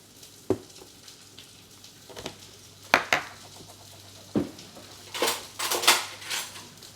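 Two eggs and heavy cream being whisked for an omelet, heard as sharp utensil clinks and scrapes against a bowl in scattered bursts, louder and busier toward the end, with no talking.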